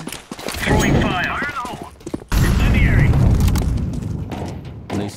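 Fire grenade going off in a team shooter match: a sudden loud burst and sustained roaring crackle, with players shouting over the game sounds.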